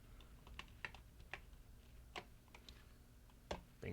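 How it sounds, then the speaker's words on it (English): Irregular bursts of computer keyboard typing, with clustered and single keystrokes spread across a steady background hum, fairly close and moderately loud, with no talking. "Oh man, typing is hard."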